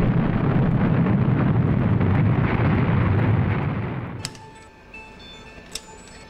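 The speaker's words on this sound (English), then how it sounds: "that makes the magma explode and we get a big volcanic explosion" An explosive volcanic eruption of magma makes a loud, sustained, roaring blast that fills the first few seconds. It then drops off abruptly into a much quieter background with scattered faint ticks.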